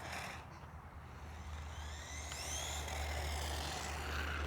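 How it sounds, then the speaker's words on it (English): A truck approaching along a residential street, a low steady engine rumble slowly growing louder from a distance under outdoor background noise. "Got a truck coming."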